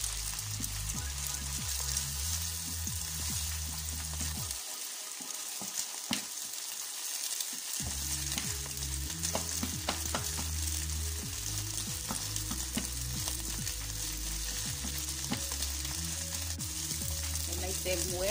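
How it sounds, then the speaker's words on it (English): Scrambled eggs sizzle steadily in a hot frying pan while being turned, with a continuous crackling fry, scraping stirs throughout, and a short lull in the low rumble partway through. "Immediately I'll keep turning the eggs. This is how I make my scrambled egg."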